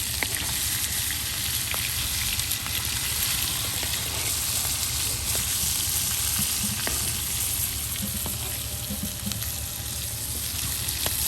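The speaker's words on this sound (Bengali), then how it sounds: "এই যে মাছগুলা উলট পালট করে দেওয়া হইতেছে।" Pangas fish pieces frying in oil are turned over in a pan, a dense close crackling sizzle throughout with faint scrapes and clinks of the turning utensil.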